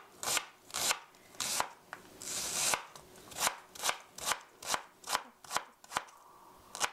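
A knife chops vegetables on a board in a regular rhythm of crisp, close thuds, about two strokes a second, with a brief sliding scrape early on.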